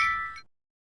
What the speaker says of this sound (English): listening to the birds chirping and the melodic wind chimes.